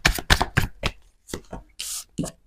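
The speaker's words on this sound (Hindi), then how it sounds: "last shuffle" Tarot cards are shuffled in quick riffling bursts, about eight short sharp flurries separated by brief pauses, close and clear with no voices.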